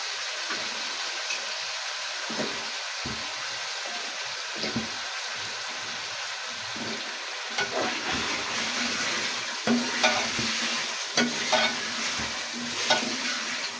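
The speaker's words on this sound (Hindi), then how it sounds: "आलू गोश्त को हमने अच्छे से भून लिया तकरीबन 5 से 6 मिनट के लिए।" Mutton and potatoes for aloo gosht sizzle steadily in a pan with masala while a spoon stirs and scrapes through them in repeated close knocks, with no voices.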